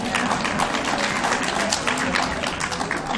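Applause from attendees at a St. Joseph's Health Services retirement plan meeting: a dense, continuous patter of many hands clapping, fairly loud and close, with no voices over it.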